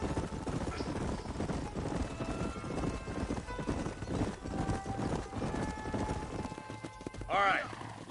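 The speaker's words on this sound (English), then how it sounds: "leave the horses here and follow me" Horses clip-clop at a steady trot through the video game Red Dead Redemption, a soft continuous rhythm of hooves under faint talk, then stopping near the end.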